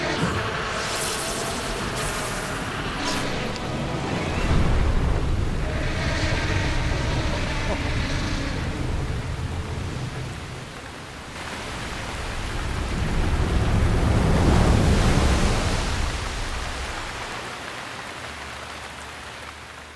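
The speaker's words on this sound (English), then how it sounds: "Look, the water spouting has slowed down." Water spouting in the video game Zelda Breath of the Wild: a continuous rushing, hissing gush that swells and eases twice across twenty seconds, moderately loud, with occasional voices over it.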